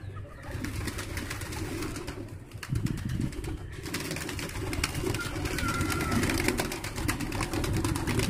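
Pigeons coo steadily at a loft where birds are held up to show their feathers, a continuous murmur of soft cooing with occasional wing flutters, close and fairly full throughout.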